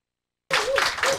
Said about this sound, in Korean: 박수가 왜 이렇게 적어?